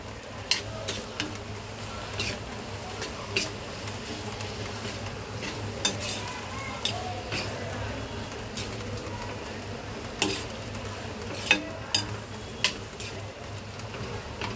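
A utensil scrapes and taps in a pan as fried dragon stalk yam (shevla) is sautéed in masala, with a soft steady sizzle and scattered light clinks at close range, and no one speaking.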